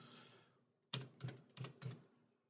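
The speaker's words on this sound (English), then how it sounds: "I go hit delete on my keyboard" A computer keyboard key is pressed sharply several times, four distinct quiet clacks in quick succession after a brief lull, with soft background noise at the start.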